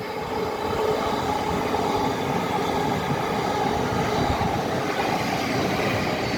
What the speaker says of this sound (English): Oh, we've got Class 707 coming forward.